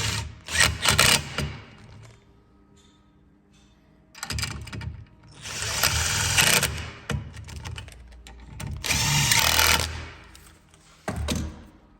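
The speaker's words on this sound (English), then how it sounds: "Then you're gonna want to take a 1/4 inch drill bit." A power drill with a 1/4 inch bit whirs in three loud bursts separated by quieter gaps, with a short fourth burst at the end, during a Kawasaki motorcycle swingarm install.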